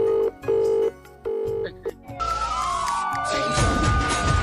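A telephone rings in a busy comedy scene about a fish theft from a village pond, with a repeating tone broken by short gaps, then a louder, clattering burst of mixed sound toward the end.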